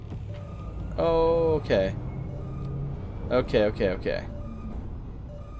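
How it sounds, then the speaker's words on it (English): An alarm in the sci-fi video game Starfield sounds as a single steady electronic tone lasting under a second over a low hum, followed by someone speaking briefly. "We clearly triggered some kind of alarm"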